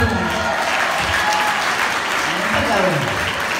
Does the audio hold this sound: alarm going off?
no